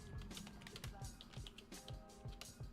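Fingers tap rapidly on a computer keyboard as someone types into a form field, a steady run of close, quiet clicks with faint background sound.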